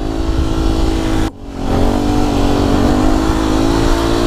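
Motor scooter revving hard while riding a wheelie, a loud buzzing engine held at high revs with a brief throttle drop partway through, then climbing again, close and alone without talk.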